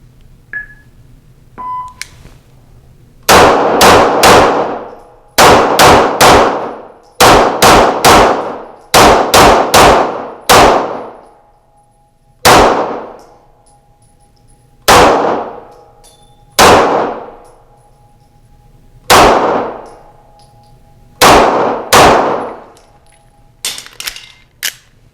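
BUL Armory EDC and TAC pistols fired at steel targets, twenty-two loud sharp shots in quick clusters, each followed by a ringing metallic clang, with brief pauses between strings and a couple of faint beeps at the start.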